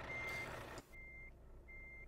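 Reversing beeps from a truck in Euro Truck Simulator 2, two or three steady evenly spaced tones over low engine rumble, following a louder stretch of engine and road noise.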